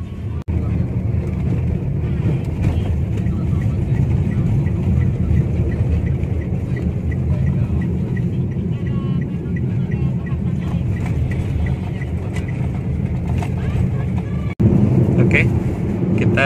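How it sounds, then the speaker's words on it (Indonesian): Inside a moving MPM bus, a steady low engine drone and road rumble fill the cabin continuously, with a brief jolt near the end and voices talking over the noise. "ikutin ya perjalanan Lepai menaiki bis"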